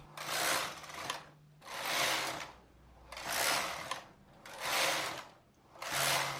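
Machine knitting of rows for a bulky slipper sock, the carriage swishing back and forth in five regular passes with a mechanical rattle, close and moderately loud.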